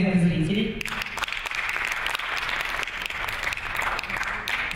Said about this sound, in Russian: приглашаем вас на сцену под аплодисменты зрителей